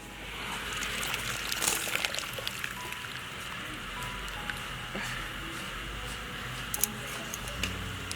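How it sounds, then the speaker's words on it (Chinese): Blanched green beans and garlic scapes are rinsed in a basin of cold water, with a steady trickle and slosh of water and small splashes, close and continuous. "把豆角和蒜苔在凉水里边多过几遍水"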